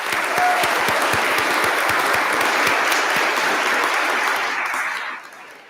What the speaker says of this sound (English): At this time, you may recognize the accomplishment of these students with your applause